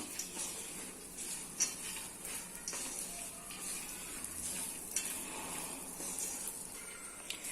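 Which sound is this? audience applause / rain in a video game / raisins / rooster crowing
raisins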